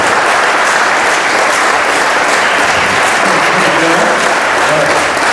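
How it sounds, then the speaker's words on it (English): Sustained, dense applause from an audience at a Charlie Parker and bebop event, greeting Clay Jenkins, Chuck Haddix and Scott Miller; loud, steady clapping fills the whole stretch without letting up. "Would you please join me in giving a big round of applause to Clay Jenkins, Chuck Haddix, and Scott Miller."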